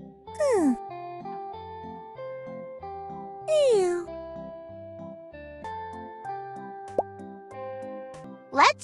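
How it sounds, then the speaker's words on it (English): A cartoon kitten gives two sliding meows, then a short squeak near the end, over a bright, steady background tune with soft plopping accents. "Write this letter and your kitten will start meowing."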